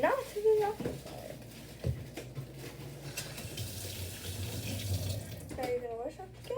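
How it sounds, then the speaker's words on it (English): Tap water runs steadily into a sink while a bottle and its cap are washed, a low, continuous splashing rush heard close, with a person talking over it at the start and end. "Now you're going to wash off the cap and wash off the bottle"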